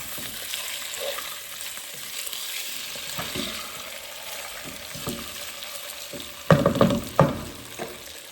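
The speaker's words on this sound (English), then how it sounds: "Let's cook it nicely for a minute on one side, then we'll flip it over." Fish cake frying in a pan after being flipped, a soft continuous sizzle close by, with louder spatters and utensil clatter in the final seconds.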